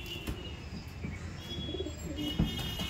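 Madrasi pigeons in a loft coo softly and intermittently, faint beneath a steady wash of background noise.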